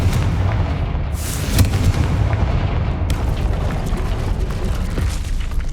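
Confringo fire spell cast in the Hogwarts Legacy video game, a loud sustained fiery blast with booming, crackling rumble that fills the whole stretch without any talking.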